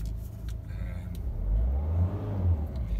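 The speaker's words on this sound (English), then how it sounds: "You can see engine revs freely, and there's no turbo whine at all on this." Diesel engine of a Citroen Berlingo Multispace 1.6 HDi revving freely with no turbo whine, a steady low rumble that swells and holds through the middle before easing slightly, close and fairly loud with no talking.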